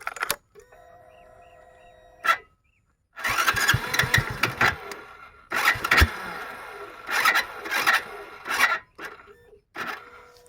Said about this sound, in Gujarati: ચાલો હવે બાઇકને સ્ટાર્ટ કરીએ